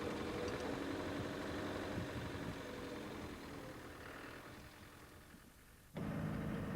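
A Land Rover Defender Wolf military vehicle's engine idles in a low, steady rumble that eases slightly, then picks up again sharply near the end as the ignition is worked; no speech.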